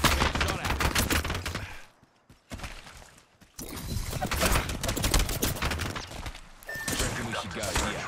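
Dense automatic gunfire rattles in an Apex Legends match, loud and near, with bursts that drop into a brief lull before the shooting resumes with heavy, continuous fire.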